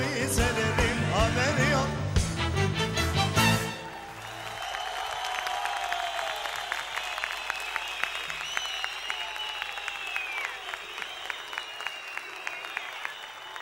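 On a televised singing competition stage, a song ends abruptly and the audience erupts into sustained applause, many hands clapping loudly and evenly for nearly ten seconds.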